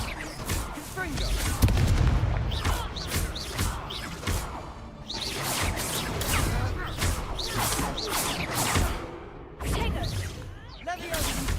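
Confringo spell blasts in the video game Hogwarts Legacy: repeated booming, crackling explosions and whooshes in a rapid, busy combat sequence, loud and close, mixed with voices shouting in the game.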